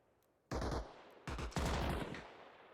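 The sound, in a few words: machine gun firing in the video game Arma Reforger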